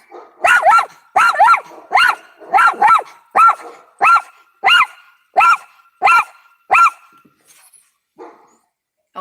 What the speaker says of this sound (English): Y'all see that big old dog?